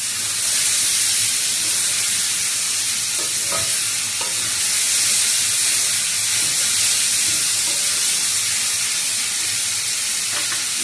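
Two medium onions frying in oil in a pan, giving a steady, dense sizzle and hiss that stays loud throughout, with a few faint stirring clicks and no voices.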